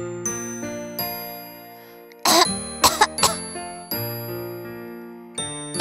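A cartoon child coughs in a few sharp bursts over bright tinkling Christmas music, close and clear, with the tune continuing between the coughs.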